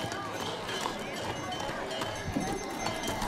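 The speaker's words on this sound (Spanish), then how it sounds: "Venga, Andrés va apretando con su caballo" Faint, quick clip-clop of horse hooves on the ground during a cattle herding contest with horses in Rincón de Olivedo, La Rioja, with voices speaking over the hoofbeats.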